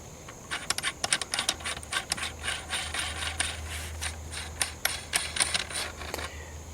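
A reverse-threaded rifle muzzle brake being unscrewed gives a rapid run of sharp metallic clicks and ratcheting ticks, close up, over a low steady hum.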